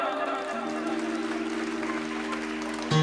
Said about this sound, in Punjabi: ਇੱਕ ਵਾਰੀ ਇਸ ਬੱਚੇ ਵਾਸਤੇ ਵੀ ਜ਼ੋਰਦਾਰ ਤਾੜੀਆਂ ਮਾਰੋ